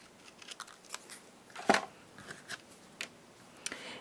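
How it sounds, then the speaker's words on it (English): Scissors cutting pink cardstock in half during card-making: a series of faint, close snips with one louder, crisp cut midway, alone. "And then I'm going to cut it right in half."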